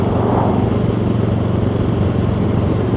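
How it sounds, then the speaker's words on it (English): Engine of a Benelli TRK 702 motorcycle while riding at steady low revs around 3000 in fifth gear, a loud continuous smooth drone with wind rumble. "closing the throttle down to 30 and the bike's perfectly smooth"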